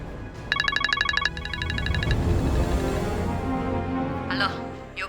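A telephone rings with a rapid electronic trill in two bursts, followed by a steady hum, with background noise and a brief voice near the end.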